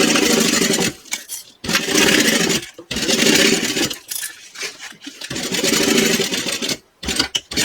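A sewing machine stitches a basting seam at 1/8 inch in loud, close bursts of whirring motor noise, stopping and starting several times with short pauses between runs.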